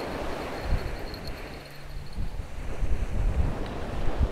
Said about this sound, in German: jetzt warten wir vielleicht, bis es nicht mehr ganz so windig ist